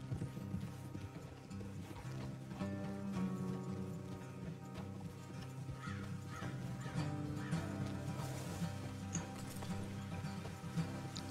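Rhythmic clip-clop of horse hooves at a trot in a Wild West video game, over a steady soundtrack-like background, with occasional crow caws, moderately quiet.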